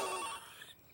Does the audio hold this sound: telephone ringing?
yes